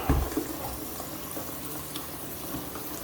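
Shower water runs steadily during bathroom rinsing, a soft, even spray-and-splash wash with a brief knock at the start.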